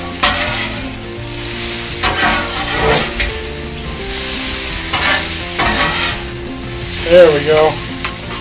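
Tuna steaks fry in an oiled pan with a steady, close sizzle. Utensils scrape and clack against the pan now and then, and a voice speaks briefly near the end.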